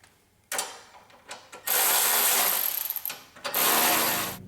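A ratchet wrench tightens bolts on a V8 water pump assembly of a 1994–2004 Jeep Grand Cherokee, giving short clicking bursts followed by longer, steady loud ratcheting runs, close up and without talk.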